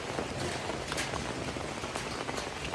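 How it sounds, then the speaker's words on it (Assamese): Steady rain falling in a broad, even hiss with scattered droplet taps, quiet and continuous with no voices. "আমি বৰষুণৰ মাজে মাজে গৈ আছোঁ এতিয়া"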